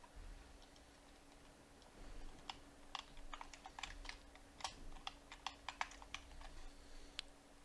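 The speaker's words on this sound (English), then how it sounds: "Now type in the password you wish to use for your WanMask wallet." Quiet computer keyboard typing as a password is entered: a run of light, irregular key clicks with a few sharper taps, close and alone over a faint steady hum.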